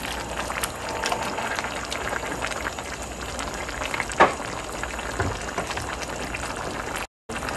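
Shrimp and okra creole simmering and frying in a pot, a steady bubbling sizzle with a few stirring scrapes, moderately loud throughout, cutting out briefly near the end.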